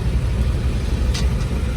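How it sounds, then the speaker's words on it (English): A restored 1941 Ford pickup truck rolling along with a steady low exhaust rumble, shifting up into second gear; a short brief hiss rises partway through, with no talking. "Going to second gear in motion there. Exhaust sounds good."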